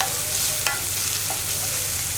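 Turmeric, salt and curry leaves being stirred in a frying pan give a soft, steady sizzle with an occasional light scrape of the spoon, close and fairly quiet, with no talking.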